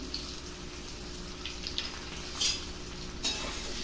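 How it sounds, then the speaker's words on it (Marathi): Cut raw banana fries in a pan over a full flame, giving a continuous close sizzle with occasional soft clinks and scrapes of stirring throughout. "केळीला फ्राय करायचं आहे चांगलं"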